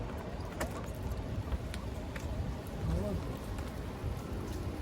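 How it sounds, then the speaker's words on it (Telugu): Rain falls steadily on an action-film set in a dense, close, rushing patter. Low rumbling runs beneath it, and faint voices can be heard in the background. "వర్షం స్టార్ట్"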